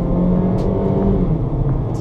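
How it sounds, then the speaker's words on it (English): A 2014 Chevrolet Sonic LS engine drones steadily inside the cabin as the car is held in gear under acceleration, a loud, continuous low rumble with a faint rising tone and no talk. "we're going to wind the gears out a bit."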